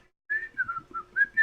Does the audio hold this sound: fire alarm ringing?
no